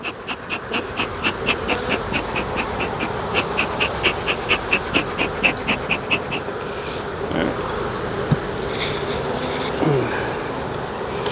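Honey bees buzz densely around an opened hive outdoors, a steady close swarm hum with pulsing wingbeat tones and occasional louder passes, some faint handling noises beneath.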